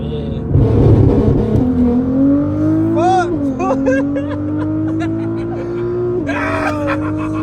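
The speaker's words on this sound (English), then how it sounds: "is that the anti-lag?" Nissan GTR engine during a ride-along, a loud rising drone of acceleration with bursts of crackling anti-lag pops around gear changes, while people talk excitedly over it.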